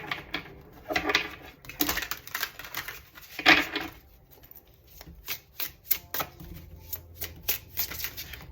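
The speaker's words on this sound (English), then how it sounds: "let me get some cards here" Tarot cards are shuffled close up in a quiet room, with bursts of riffling and sharp flicking snaps in uneven clusters and short pauses between them.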